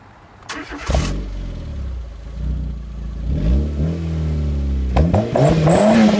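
A Citroen Saxo VTR with a Scorpion exhaust and forced induction starts up and revs, its engine climbing and dropping in pitch through several close, loud blips between short idle stretches.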